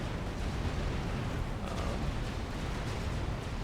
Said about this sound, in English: So watch these missiles hitting this guy.